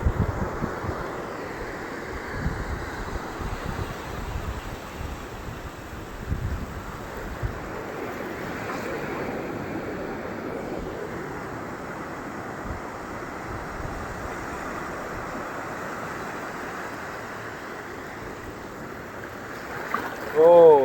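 Sea waves wash in at Cox's Bazar beach, a broad steady rush of surf with wind buffeting the microphone, moderately loud and continuous, with people talking faintly in the background.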